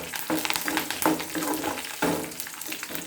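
Garlic and curry leaves crackle and sizzle in hot oil for a tempering, with steady frying hiss and a few sharper bursts as they are stirred, close and fairly loud.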